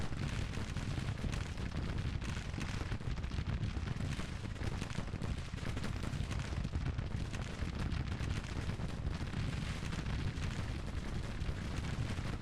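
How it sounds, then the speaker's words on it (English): Rumbling cannon artillery fire in the Civil War strategy game Grand Tactician, a dense, continuous barrage of low booms and crackling blasts at steady loudness with no talk. "there goes the first cannons"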